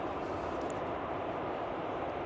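A Jet2 passenger jet in Jet2.com livery takes off at Manchester Airport, heard as a steady, loud broadband engine roar that holds evenly throughout with no voices.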